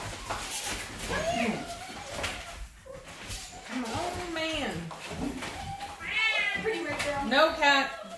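A cat meows repeatedly, a series of rising and falling calls spread throughout, close and clear, with people talking around it.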